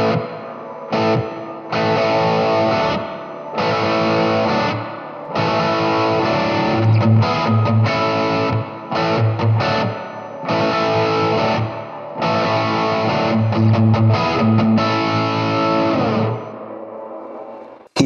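Electric guitar played through a Blackstar Debut 50R amp with hall reverb, distorted chords and riffs in repeated phrases with brief gaps, loud and close, the reverb tail lingering, with no talking.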